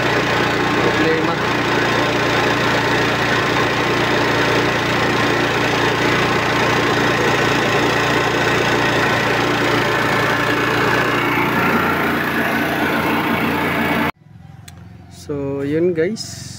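A generator engine runs steadily after starting, a loud continuous mechanical drone that holds for most of the stretch before cutting off, followed by someone talking.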